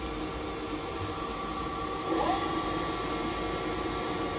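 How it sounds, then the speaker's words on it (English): A 2013 Doosan Lynx 220LSYA CNC lathe with a barfeed runs its spindle at a steady low speed, giving a continuous mechanical hum and whine that rises slightly partway through. "Spindle's running at 500, also has a tool setter."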